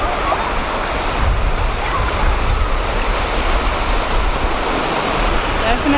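Ocean surf at New Smyrna Beach, Florida, rushes in a steady, dense wash of breaking waves close by, with faint voices mixed into the continuous roar.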